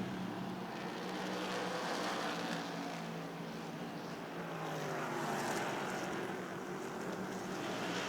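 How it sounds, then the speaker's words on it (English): NASCAR Whelen Modified race cars roar through the corners at Thompson Speedway Motorsports Park, a steady, loud broadband engine drone that holds throughout with slight swells as cars pass. "hear those NASCAR modifieds make that nice engine noise and go through the corners"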